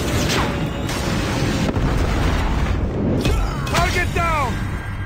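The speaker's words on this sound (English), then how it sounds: "Predator missile inbound." Predator missile strike exploding in Call of Duty Mobile, a heavy boom and rumbling blast amid game combat noise, with voices speaking over it.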